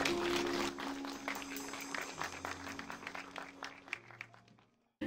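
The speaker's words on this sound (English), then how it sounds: "let's all go ahead and give God a hand clap" A church congregation gives a round of moderate applause that thins out and fades to silence near the end, with a faint voice underneath.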